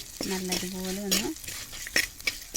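Duck roast and coconut pieces being sautéed in a pan, a soft sizzle with scraping stirs and a few clinks of a spoon against the pan, fairly quiet, with a brief tonal squeak early on.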